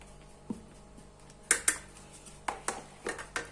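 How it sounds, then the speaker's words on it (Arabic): A ladle knocks against a bowl while sugar and cornstarch are stirred together for homemade ice cream, producing irregular sharp clinks and taps that come in quick clusters, close and without talk. "خلطوا هاد المكونات كامل مليح كيما راكم تشوفوا هكذا"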